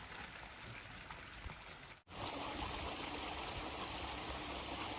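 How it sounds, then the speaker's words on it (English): Water from a backyard pond pumped through a filter and spilling over rocks of a newly built waterfall, a steady close splashing trickle with a brief dip in the middle before resuming. "So I started the water flowing."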